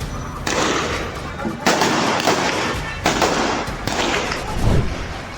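Indiscriminate gunfire from Pakistani Rangers crackles in a news clip, with loud, dense bursts of shots repeating in several waves, close and harsh, under a talking voice.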